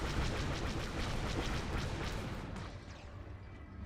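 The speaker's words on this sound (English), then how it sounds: "More explosions come down here." Explosions and gunfire rumble through a Star Wars clone battle on Naboo in the strategy game Men of War: Assault Squad 2, a dense run of booms and cracks that slowly fades toward the end, with no voices.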